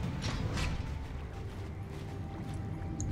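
A stone temple door in Warcraft III grinds open with continuous mechanical creaking and rumbling, a steady heavy churning with a few sharper clicks near the start.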